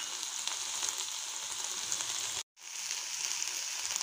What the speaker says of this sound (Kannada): ಆನಿಯನ್ ಸ್ವಲ್ಪ ಗೋಲ್ಡನ್ ಬ್ರೌನ್ ಆಗೋ ತನಕ ಫ್ರೈ ಮಾಡಬೇಕು.